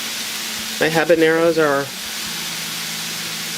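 A small hot pepper sautés in a Kuhn Rikon frying pan, giving a steady, soft sizzle throughout while a person speaks briefly over it.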